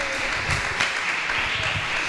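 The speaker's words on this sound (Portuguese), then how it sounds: "As palmas exaltam e glorificam o nome de Jesus." Church congregation applauding during a family worship service, a steady wash of many hands clapping at moderate level with faint voices underneath.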